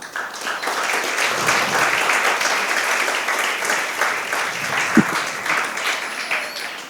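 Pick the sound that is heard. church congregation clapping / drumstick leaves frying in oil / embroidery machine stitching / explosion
church congregation clapping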